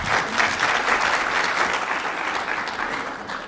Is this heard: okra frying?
no